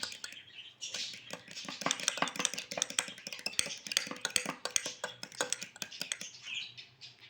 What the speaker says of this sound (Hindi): जिसको जी हम अच्छे तरीके से मिक्स कर लेते हैं।